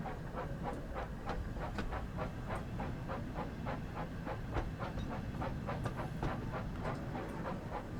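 Steam engine from a Thomas & Friends video game chuffing along rails, a steady rapid run of even exhaust puffs over a constant hissing rumble, close and fairly loud throughout with no talk.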